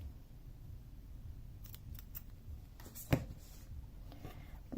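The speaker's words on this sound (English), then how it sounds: "snip that off." Scissors snip off the yarn tail of a crochet granny square sunflower: a few faint, quiet cuts with one crisper snip near the end, close and without talk.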